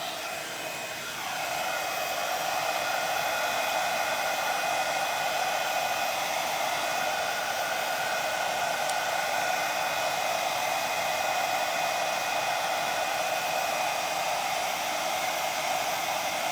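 Hot air tool heating moss for a seashell flower craft runs as a steady, moderately loud blowing hiss that starts and holds for over fifteen seconds, with no voices.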